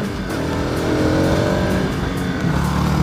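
A Bajaj Pulsar RS 200 motorcycle speeds along a road, its engine droning loud and steady with rising and falling tones throughout, close and continuous with no talk.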